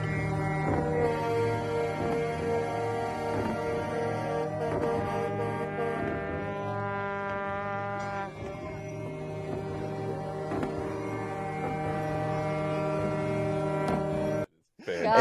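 Truck air horns blaring in protest, long overlapping sustained blasts layered over a low rumble, continuous and loud for most of the stretch before cutting out abruptly near the end.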